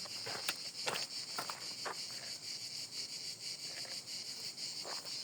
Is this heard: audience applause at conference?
no